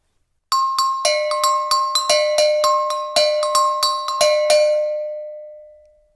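A set of go-go bells struck in a quick, uneven rhythm of about a dozen bright metallic clanks on two pitches, each ringing on, loud and close, with the last note decaying away alone.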